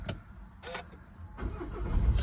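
Volkswagen Tiguan 2.0 TDI diesel with about 105,000 miles cranks briefly with a few clicks, then catches and rises into a steady, close engine idle with no talking.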